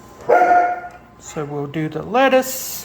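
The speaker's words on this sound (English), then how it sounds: "Sorry for the dogs barking." Great Pyrenees, large dogs, bark and yip in the background while a person talks in the foreground. The barks are brief and partly masked by the speech.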